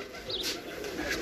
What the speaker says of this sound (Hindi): ये एक कबूतर भी आके बैठा है